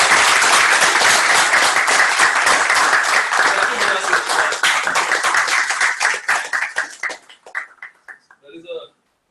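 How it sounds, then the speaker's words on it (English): Sustained audience applause at a panel discussion, dense clapping from a crowd that thins into scattered individual claps and fades out after about eight seconds. "Big round of applause."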